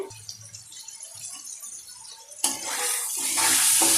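Water poured into a pan of chicken frying with chili powder, ginger-garlic paste and salt sets off a sudden loud sizzle after a quiet stretch, swelling into a steady, bright hiss that keeps building.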